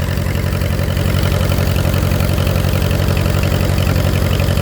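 A small farm tractor engine, loud after sitting over the winter, idles steadily up close, a loud, even low-pitched putter with a rapid regular chug that never changes pace.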